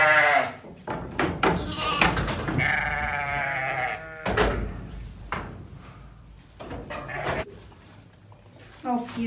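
Sheep and young lambs bleat repeatedly at close range on a farm, wavering calls overlapping in an irregular rhythm amid shuffling and handling noises, with people talking nearby.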